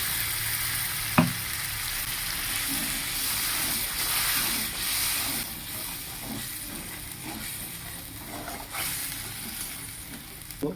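Spice paste for egg curry sizzles and fries steadily in a pan, with a broad constant hiss and occasional utensil scrapes and taps while it is stirred.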